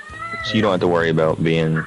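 A cat meows in long, rising and falling cries, loud and close, overlapping a person talking in the foreground.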